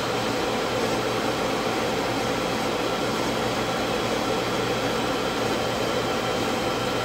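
Galvo laser rotary attachment turning a cup, giving a steady, continuous broadband whir and hum at a constant level throughout, with no talk.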